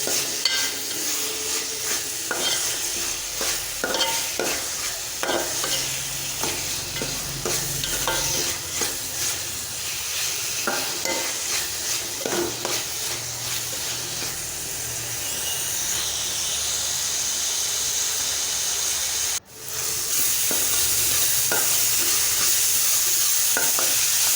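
Onions with a pinch of salt sautéed in a pan for fish curry, a steady close sizzle running throughout with repeated scraping stir strokes, the frying hiss growing denser and more even toward the end after a brief dropout.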